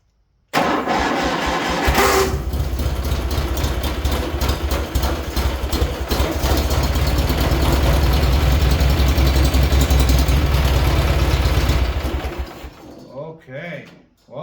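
A Cub Cadet 1811 lawn tractor engine cranks and fires, running loudly and roughly for about eleven seconds before stalling and sputtering out, with a voice speaking briefly near the end.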